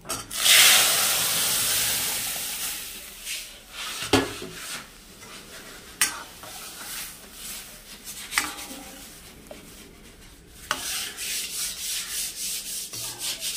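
Matar dal poured into hot panch phoron tempering hisses in a loud burst of steam, then settles into a softer sizzle broken by occasional scrapes and knocks of a spoon stirring the pot, with no talk.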